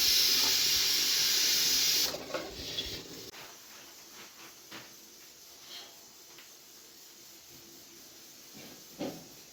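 A pressure cooker cooking dal gives off a loud, steady hiss for about two seconds, then stops, leaving faint kitchen clatter and a few soft knocks.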